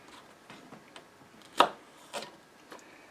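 A knife chops little zucchini pieces in half on a cutting board, making a few soft, sparse taps with one sharper cut near the middle.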